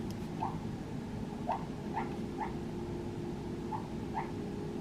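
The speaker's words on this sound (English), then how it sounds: "Do you guys hear my dog snoring? He's snoring right now." Soft, short snorts or snuffles from a sleeping dog, about eight of them at irregular intervals, close by over a steady low hum.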